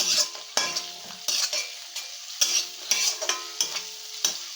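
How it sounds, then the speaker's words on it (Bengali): Chopped tomato and green chilli sizzle in a hot pan while a spoon stirs and scrapes in a steady, repeating rhythm, close and clear with no talking. "আর দিয়ে নেবো কুচিয়ে রাখা লঙ্কা। একসাথে এবারে ভালোভাবে কষিয়ে নেব।"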